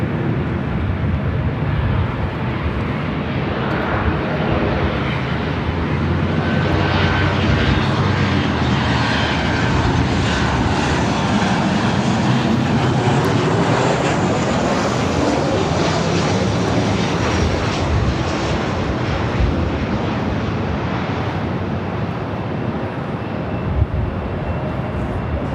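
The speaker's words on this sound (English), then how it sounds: "And Emirates is now rolling." An Emirates airliner begins its takeoff roll on runway 25L at LAX, a loud sustained jet engine roar that builds and holds steadily for a long stretch, heard alone from a distance without talk.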